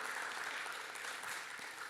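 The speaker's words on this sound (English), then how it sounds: "y'all can clap, go ahead and clap." Steady, dense applause from an audience, a continuous wash of many hands clapping at moderate level with no voices standing out.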